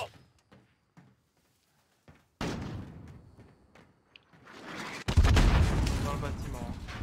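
Modern Warfare gunfire: a few sharp isolated shots, then loud bursts of rifle fire and a heavy sustained volley near the end, close and powerful, with players speaking between the shots.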